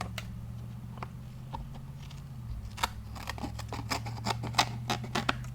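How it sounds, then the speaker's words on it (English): Scissors make a quick run of crisp snips while trimming small excess pieces from a papercraft 4th of July rosette decoration. A faint steady hum sits underneath and no one speaks. "let's just snip off those little extra pieces"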